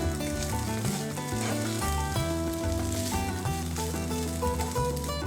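Daliya salad with mixed herbs sizzles steadily in a hot pan as it is stirred, a close, even frying hiss with soft scraping and tapping of the utensil throughout.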